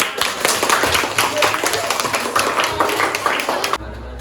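A classroom of students claps after a group presentation on buffer solutions, brisk, dense clapping close by that stops abruptly, leaving a low hum.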